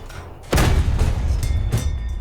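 A BT-7M light tank's cannon fires in the War Thunder video game: a sudden loud, heavy boom with a rumbling tail, followed by a second, softer thump about a second later.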